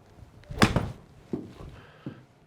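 Golf ball struck in the video game The Golf Club 2019, a soft, dull thunk of club on ball followed by a couple of fainter muffled knocks, quiet and close with no talking.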